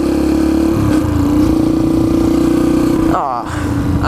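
A Yamaha TTR 125 dirt bike engine revs hard at full throttle, a loud, close, steady buzzing drone that briefly dips and sputters near the end before picking up again.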